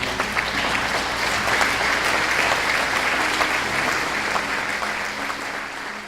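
A standing audience at a rescue mission anniversary event applauds steadily for a keynote speaker, a dense, sustained wash of clapping filling the room from start to finish.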